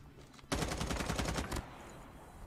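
Rapid automatic gunfire in Call of Duty Mobile battle royale, a loud sustained burst of about a dozen evenly spaced shots lasting roughly a second, then quieter ambient game sound.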